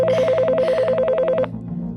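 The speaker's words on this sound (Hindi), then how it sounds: "आखिरकार कस्टमर का फोन है।" Office telephone ringing with an incoming customer call: a warbling electronic trill in rapid bursts, loud and close, for about one and a half seconds before it cuts off into quiet room tone.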